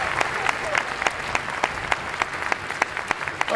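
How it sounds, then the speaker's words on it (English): A big audience claps at a political speech, a steady full round of applause with sharp individual claps standing out, loud and close throughout. "Let's have a big hand of applause for we the people."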